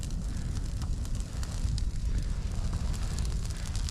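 Campfire of dry wood burning outdoors in cold mountain weather, a continuous roar with frequent sharp sputtering crackles and wind noise on the microphone.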